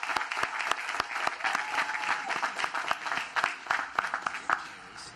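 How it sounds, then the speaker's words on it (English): Sustained audience applause at a university graduation ceremony in Orangeburg, dense steady clapping from a large crowd with a few sharper individual claps standing out. "Let's give him a round of applause."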